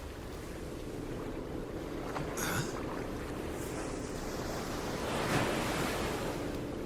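Video game ocean: steady surf and wash of water around a boat, with a constant low rumble and occasional wind gusts, no voices.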